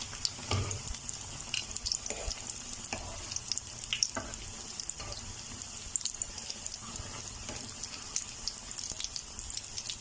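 Bread rolls, cheese and chicken filled, frying in hot oil over medium heat, with a steady soft sizzle and faint crackle throughout, no voices.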